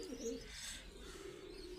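Pigeons in a loft coo softly in short low burbles near the start, then a faint steady background hum continues; quiet and unaccompanied by talk.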